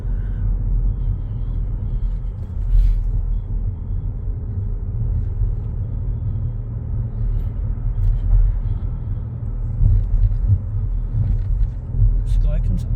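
Car on a driving lesson through a residential area, a steady low road rumble and engine drone inside the cabin throughout, with people talking over it.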